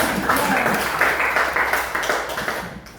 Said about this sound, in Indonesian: Oke, terima kasih, tepuk tangan dulu.